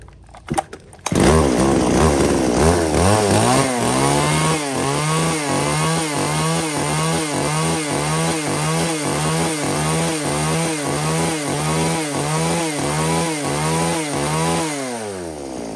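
A used Japanese-market chainsaw engine starts and idles, with a steady, loud two-stroke pulsing drone held throughout before cutting off at the end.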